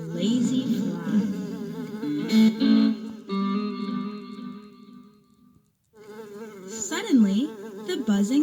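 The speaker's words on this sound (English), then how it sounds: "The only sound was the buzz of a lazy fly." A fly buzzes lazily in a barn on a hot afternoon, a droning, wavering hum that rises and dips, broken by a brief silence before the buzz resumes, close and prominent.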